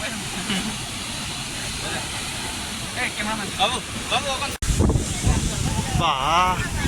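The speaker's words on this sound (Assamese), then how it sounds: "যি বতাহ মাৰি আছে এইফালে" Gusty wind roars against the microphone in a constant rushing hiss, growing louder midway, while a person speaks intermittently underneath, on the way to Phe Phe Falls near Jowai, Meghalaya.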